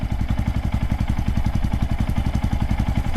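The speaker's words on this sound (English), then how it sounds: "I'm gonna take it for a little ride and see what it is, what it actually sounds like when you're riding it" A Honda Monkey 125 motorcycle with a TB Parts aftermarket exhaust is being ridden, its engine putting out a loud, close, rapid and even exhaust pulse throughout.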